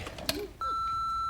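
A telephone rings in a TV show, with a sustained electronic ring tone starting partway through after brief clattering sounds, heard faintly as though through a television.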